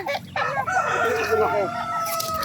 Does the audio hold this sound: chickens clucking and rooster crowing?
yes